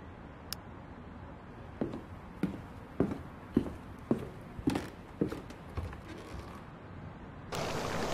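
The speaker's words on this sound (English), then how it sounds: "Can hear him going upstairs." A person climbs a staircase with a series of about nine evenly spaced, moderately loud footsteps that thud and knock, then a brighter rushing noise rises at the end.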